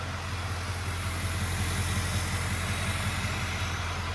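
Ford F350 Super Duty 4x4 pickup with a 6.0L Powerstroke diesel running at idle, a steady low rumble with a constant hiss from the exhaust and turbo, close and unchanging throughout.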